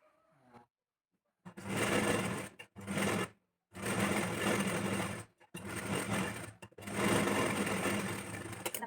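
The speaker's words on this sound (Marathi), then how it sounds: "ती कटोरी आपल्याला इथे स्टिच करून घ्यायची आहे" A sewing machine stitches a princess-cut blouse piece in several loud, close bursts of rapid whirring, broken by brief pauses between runs.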